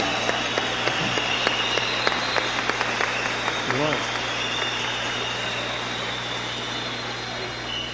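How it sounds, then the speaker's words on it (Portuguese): A seminar audience gives a round of applause, scattered clapping over a steady mechanical hum and a voice, the claps fading out after a few seconds while the hum continues. "let's give them a round of applause"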